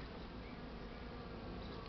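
A thick, unbroken hum of many honeybees fills the air around the hives in warm spring weather during a strong cleansing flight, loud and near, with no voices.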